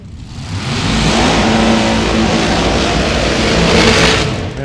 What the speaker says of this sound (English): Those loud cars scare me.